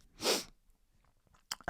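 A single sharp human sneeze bursts out loud and close, followed by a brief pause and a couple of quick sniffs or breaths, with no talking.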